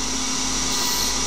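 A small CNC lathe spins at 4000 rpm while turning and profiling a brass part, producing a steady, even machine hum with a constant tonal whine and no breaks.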